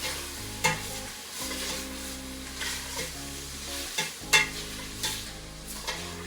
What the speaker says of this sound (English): you don't want to cook it too fast or have your heat up too high, because you don't want to burn your bacon